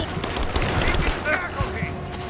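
Gunfire in the video game Rise of the Tomb Raider: dense, overlapping bursts of shots in a loud, continuous firefight, with shouted voices mixed underneath.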